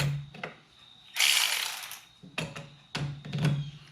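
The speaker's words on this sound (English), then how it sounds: "now we're going to tighten up that center nut" A ratchet tightens the center nut on a Cub Cadet XT1 wheel, giving close, loud bursts of rapid clicking separated by short pauses.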